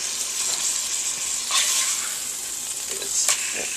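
Fish dusted heavily with cinnamon fries in a pan, a steady close sizzle running throughout with brief louder spits and stirring scrapes near the middle and end.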